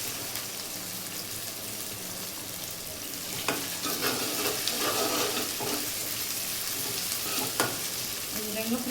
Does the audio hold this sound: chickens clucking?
no